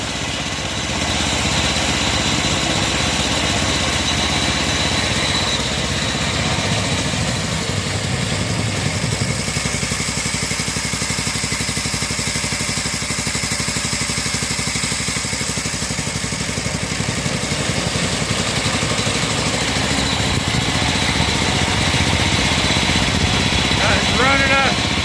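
A Predator 224 Max engine on a go-kart runs smoothly and steadily, a loud continuous close-up drone with a slightly uneven throb that holds throughout.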